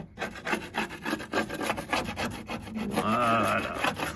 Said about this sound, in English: Just taking a piece of the aluminum strip that we're going to use, and using that as the scraper tool.